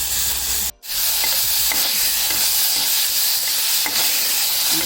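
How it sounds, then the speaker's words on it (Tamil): Tomatoes sautéing in hot oil for a drumstick leaf soup give a loud, steady sizzle and hiss up close, broken by a brief drop near the start and faint stirring scrapes. "எண்ணெயிலே ஒரு அஞ்சு நிமிஷம் வதக்கி"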